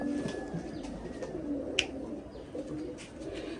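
Pigeons coo softly and steadily in a high-flying pigeon loft, basking in winter sun, a low murmuring chorus with a few faint chirps and one brief sharp click partway through.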